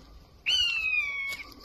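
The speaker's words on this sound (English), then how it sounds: "That sounds like some kind of bird of prey." A bird of prey calls once in a quiet Kentish wood: a single loud, drawn-out whistled cry that slides slowly downward, standing alone against faint background hush.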